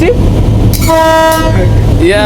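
A loud, steady train horn blares for about half a second amid rumbling engine noise, with voices around it, on a passenger train in Dire Dawa.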